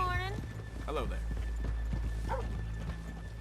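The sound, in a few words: horses in the video game Red Dead Redemption 2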